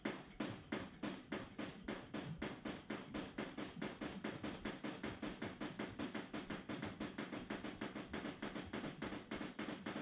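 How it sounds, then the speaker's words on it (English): Rapid, evenly spaced metallic blows from a seismic source hammer strike two plates over and over, a sharp repetitive clanking that continues steadily throughout. "we can see the hammer striking successively the two plates on the side"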